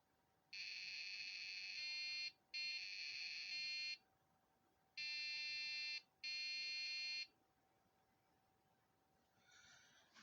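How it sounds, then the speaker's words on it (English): Long, harsh electronic error beeps from a Dell Optiplex 755 desktop computer with a RAM fault, four tones in two pairs separated by short gaps, loud and buzzy against a quiet hum. "We're getting the beeping again."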